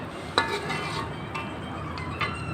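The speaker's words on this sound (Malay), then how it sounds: "Kita kacau ya rata-rata." A spoon stirs jackfruit curry with coconut milk in a pot, giving a soft continuous swirl broken by a few light clinks of metal against the pot, quiet and close.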